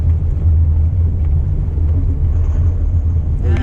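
A Ford Mustang Bullitt GT engine lugs in too high a gear, a steady heavy low rumble droning close and loud throughout without revving up, with a brief lighter rattle at the end.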